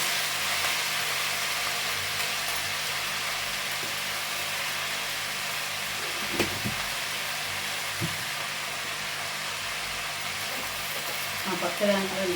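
Gongura leaves frying in oil in a pan, giving a steady broadband hiss and sizzle that runs throughout at moderate level, with a couple of faint utensil knocks and a voice talking now and then.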